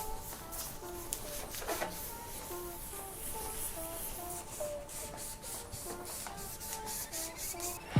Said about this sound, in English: From time to time I would help myself with the brush when there's some pieces of the dirt and the sand or mud left.